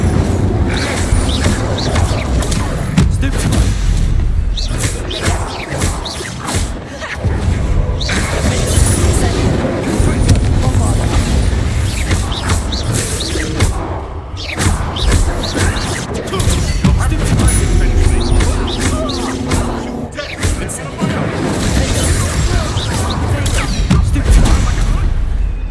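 Fiery spell impacts from Hogwarts Legacy crackle and boom in dense, continuous bursts, loud and up close, layered over game music and clashing effects.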